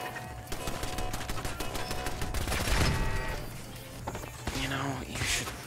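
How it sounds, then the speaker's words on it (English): Enemy gunfire in the video game Fallout, a dense fusillade of shots mixed with footsteps and game noise, loud and sustained through the moment. "Really stop shooting at me."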